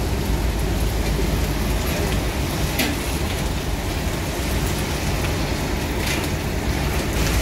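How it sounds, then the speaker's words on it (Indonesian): Steady heavy rain hissing without a break in Palembang, Indonesia, dense and constant with a deep rumbling undertone throughout. "Tambah deras hujan"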